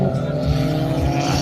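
Street cars racing at a social amateur track event, a loud continuous engine roar with tire noise and a faint background hum, steady and close throughout.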